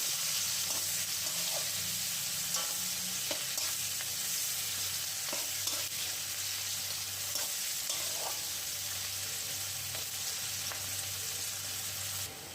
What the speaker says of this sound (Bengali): এবারে দিয়ে দিচ্ছি কুচনো পেঁয়াজ। পেঁয়াজটা একটু ভাজা ভাজা হবে।